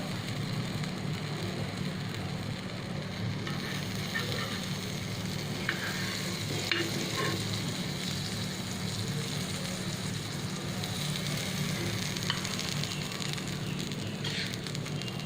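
A spinach sandwich toasts in butter on a pan over a low-medium flame, giving a faint, steady crackling sizzle that runs evenly throughout with a few soft clicks and no talking.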